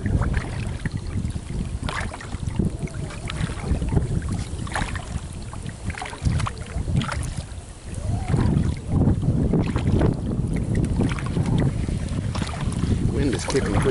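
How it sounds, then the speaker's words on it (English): Strong wind buffets a kayak out on open water, a loud, continuous low roar of gusts against the microphone with water sloshing around the boat throughout. "Wind is kicking pretty good."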